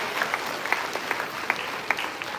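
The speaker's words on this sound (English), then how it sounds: "A round of applause, everybody." Audience clapping at a school final assembly, a steady patter of many hands with a few sharper claps standing out, moderately loud and continuous with no voices over it.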